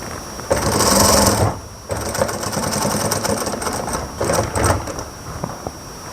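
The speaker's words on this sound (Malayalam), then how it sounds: "ഇനി ഒന്നുകൂടി ഇങ്ങോട്ട് സ്റ്റിച്ച് ചെയ്ത് കൊണ്ടുവരാം" Sewing machine stitching fabric for a frock in close, loud bursts of rapid mechanical whirring, pausing briefly and then running again, with no talking.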